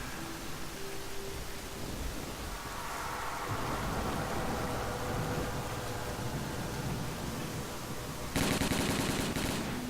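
Gunfire in S.T.A.L.K.E.R. Call of Pripyat, a steady noisy rattle of shots under hissing ambience, growing sharper and louder near the end.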